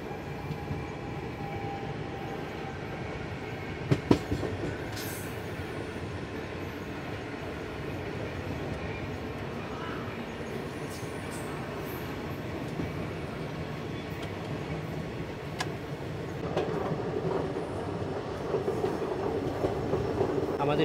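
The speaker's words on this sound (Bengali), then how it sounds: "আমাদের ট্রেন ওয়াফ 4-এর সাথে আস্তে আস্তে এগোচ্ছে" The Kanchanjunga Express, hauled by a WAP-4 electric locomotive, rolls slowly through a curve near Khana Junction in rainy weather: a steady low rumble of coaches and wheels heard from inside, with occasional clicks and a faint squeal.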